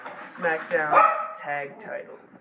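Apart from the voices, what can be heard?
dog barking in the background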